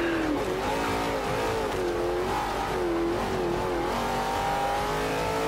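Racing car engines in a V8 Supercars video game rev and shift up and down continuously, a dense, steady roar of acceleration with no one talking.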